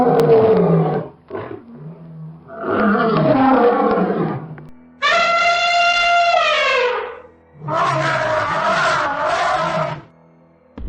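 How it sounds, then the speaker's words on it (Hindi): A cartoon lion and elephant trade roars: several loud, rough lion roars alternate with a bright, brassy elephant trumpet, each burst lasting a second or two with brief pauses between. "दोनों ही एक दूसरे को अपनी दहाड़ सुनाते हैं"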